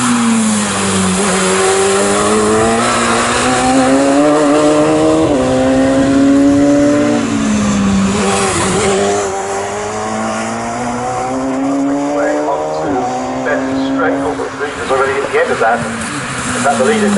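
Radical race cars roar past at Snetterton circuit during a championship race, their high-revving engines rising and falling through gear changes, loud and continuous for the whole stretch, with a commentator talking over the action.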